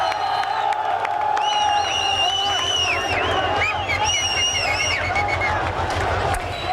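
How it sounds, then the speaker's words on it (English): A crowd in Baghdad cheers and whistles as U.S. Marines pull down a larger-than-life statue of Saddam Hussein. The roar is loud and continuous, with shrill whistles rising above the dense, overlapping voices. "As a crowd cheered, U.S. Marines pulled down a larger-than-life statue of Saddam Hussein"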